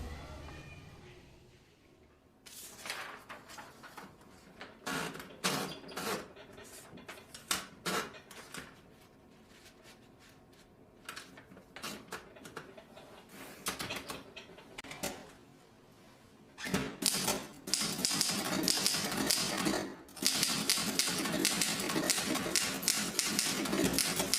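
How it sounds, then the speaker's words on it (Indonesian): Typewriter keys struck in irregular bursts during a staged Indonesian historical drama, the clatter thickening into dense, fast typing near the end with a brief pause, fairly close and with no talk over it. "Sayuti, tolong ketikkan ini."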